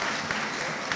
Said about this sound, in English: I want to ask that we give a hand of applause to the great doctors and man of God, Dr. Otabil.